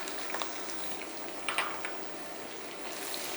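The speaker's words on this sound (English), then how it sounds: "I'm going to start with the garlic and the onion." Garlic and onion frying in hot oil, a steady bright sizzle with occasional louder pops and crackles, close and continuous, with no talk over it.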